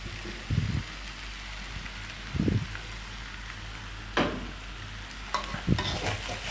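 Eggplant being stir-fried with eel curry in a pan, a soft steady sizzle broken by a few louder scraping stirs of the spatula, close up and quiet, no talking.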